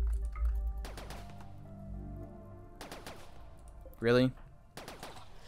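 In the colony game RimWorld, a short, loud burst of gunfire rings out against a creature during an elephant rampage. A few faint taps and clicks come before it, and one brief spoken word is heard.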